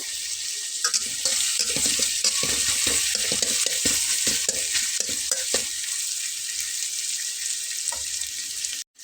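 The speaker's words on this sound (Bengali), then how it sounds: "এটাকে একটু আমি চুলার আঁচটাকে বাড়িয়ে দিয়ে হালকা একটু ভাজা করে নেব" A flour-based snack mixture with onion fries in a pan over a raised flame, sizzling steadily while a utensil scrapes and stirs it in repeated strokes, close and fairly loud, before it cuts off at the end.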